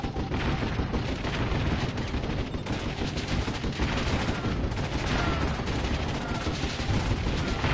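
Gunfire in the real-time strategy game Warzone 2100, with dense overlapping shots, rapid machine-gun bursts and booming impacts that run continuously and loudly throughout.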